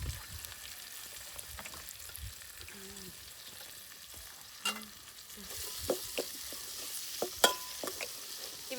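Onions and green chillies frying in peanut oil, a soft steady sizzle with clinks and scrapes of stirring that grow busier toward the end. Faint and close, with brief talk in the background.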